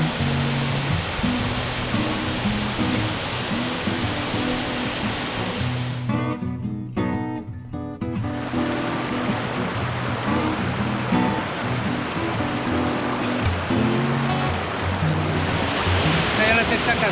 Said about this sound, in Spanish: Esta es la sexta cascada aquí en el Parque La Periquera.